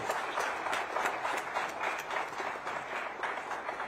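A crowd at a youth dialogue event in Raipur claps to welcome a union minister, giving a dense, even wash of applause that is moderately loud and continuous throughout.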